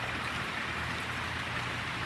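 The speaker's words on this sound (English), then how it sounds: "Oh my, it's raining a lot." Heavy rain falling, a dense, even hiss of downpour with no breaks, close and steady throughout the short stretch with no voices.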